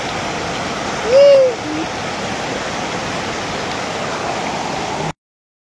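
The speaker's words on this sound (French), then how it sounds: "Une petite rivière en bas." A small river flows below a house, a steady broadband rush of running water that holds evenly throughout, with a brief whistle-like tone rising near the start before the sound cuts off.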